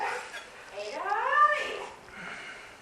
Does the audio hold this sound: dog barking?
yes